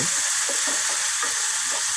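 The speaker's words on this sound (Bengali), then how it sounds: "ভেজে নেব হালকা রংটা চেঞ্জ হওয়ার আগ পর্যন্ত।" Round-sliced potatoes frying in oil in a pan, a steady loud sizzle with soft rhythmic scrapes as they are stirred, no voices.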